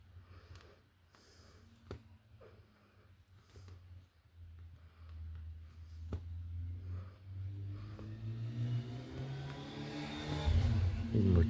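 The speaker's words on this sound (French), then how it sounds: "Une moto." A motorcycle passes outdoors, a low engine drone rising steadily over several seconds and growing loud and near toward the end, with quiet background sounds before it.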